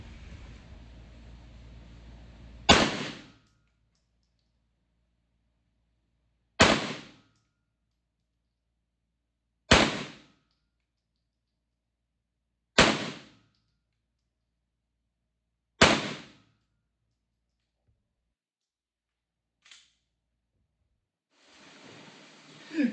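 Five sharp, evenly spaced pistol shots from a Walther PDP Compact 4-inch, fired at about 20 yards on a range, each one loud and crisp with a short decay and a few seconds of quiet between them.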